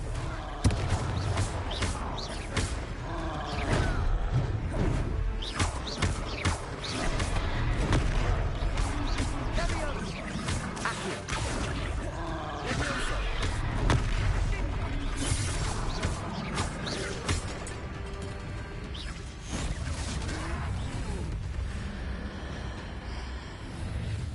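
Blasting Confringo spell explosions thud and crack through a dense, continuous wall of combat noise in the Hogwarts Legacy video game, with booms, creaks and mechanical clatter layered together for the full stretch.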